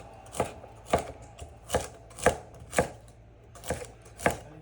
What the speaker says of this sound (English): And then we're gonna cut in a slicing motion